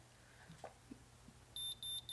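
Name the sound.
hair curling iron beeping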